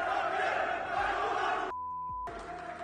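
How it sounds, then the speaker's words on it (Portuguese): Vasco football supporters in a stadium roar and chant together in protest against the club president. The crowd noise is broad and fairly distant, cuts out abruptly for a moment, then returns. "Antes de sair do gramado, a torcida começa a protestar, primeiro contra o presidente Campelo"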